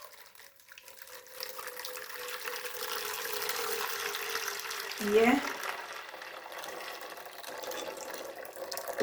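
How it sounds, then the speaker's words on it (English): Coconut milk poured straight into a cooking pot holding a piece of cinnamon stick, for Jamaican green plantain porridge; a steady liquid pour runs close by with a brief clunk partway through and a short spoken word. "I'm gonna go ahead now and pour my coconut milk"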